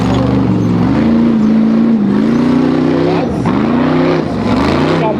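Off-road race car crawling over rocks at King of the Hammers on the Turkey Claw trail, its engine droning loud and close throughout with rising and falling revs.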